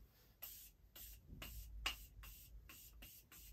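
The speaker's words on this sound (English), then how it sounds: "I'm just going to take the Morphe Continuous Setting Mist and just spray this just over my face" Short bursts of a Morphe Continuous Setting Mist spray bottle misting over a face, about eight quick airy hisses in a fairly steady rhythm, close and soft.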